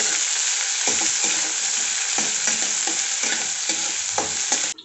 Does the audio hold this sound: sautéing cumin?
yes